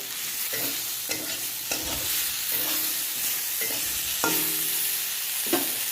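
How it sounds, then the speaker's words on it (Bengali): Turmeric, coriander and cumin powder being stirred into potatoes frying in oil, a steady close sizzle broken by periodic scraping strokes of a spatula, with no talking. "এবার হলুদ আর ধনের গুঁড়ো জিরের গুঁড়ো দিয়ে দেবো, দিয়ে আবার একটু নাড়াচাড়া করবো"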